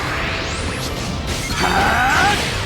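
A loud Galick Gun energy blast from the video game Dragon Ball Legends sweeps up in pitch with whooshing, crashing effects and a shimmering ringing tail, all within a few seconds.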